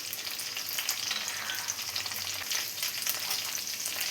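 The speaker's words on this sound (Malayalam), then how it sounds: "ഇത് രണ്ടും കൂടെ നന്നായി തന്നെ ഫ്രൈ ചെയ്തെടുക്കും" Okra and shallots frying in coconut oil for a sambar, a steady dense sizzle and crackle close by, continuous throughout with no voices.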